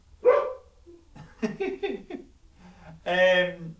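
A dog barks a few loud separate times close by in a quiet room, with short gaps between the barks.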